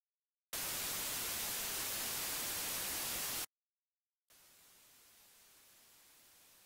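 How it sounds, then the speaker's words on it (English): A steady hiss of generated white noise runs for about three seconds, stops, then returns softer and continues to the end. "You can create white noise."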